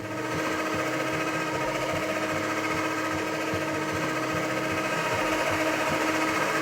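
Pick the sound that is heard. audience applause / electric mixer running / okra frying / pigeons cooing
electric mixer running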